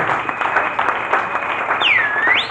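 Steady crowd applause at a Congolese church worship gathering acclaiming Jesus, a broad continuous wash of clapping with a high whistle-like tone sweeping near the end.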